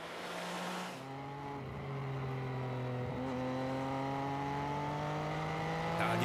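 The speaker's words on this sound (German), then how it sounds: "Der Sound der Abgasanlage wird rauer und wilder" A Triumph Street Triple motorcycle engine and exhaust climbing steadily through the revs, a rising, roughening drone held close and continuous for several seconds with no talk over it.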